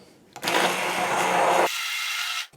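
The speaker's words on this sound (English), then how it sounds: "And then I'm going to puree my whole peeled tomatoes." A blender purees whole peeled tomatoes with a loud, whirring roar that starts suddenly, runs for about a second, then drops to a lighter, higher spin before it cuts off.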